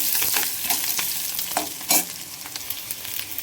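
Garlic roasting in hot oil in a pan for a festive mutton meal, with a steady bright sizzle and intermittent stirring scrapes and clinks, close and continuous with no talk.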